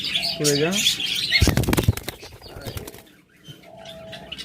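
A pair of white pied cockatiels flutters and flaps its wings in a burst of quick, close wingbeats, with brief chirps before and after.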